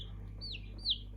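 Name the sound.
light Sussex chicken chick clucking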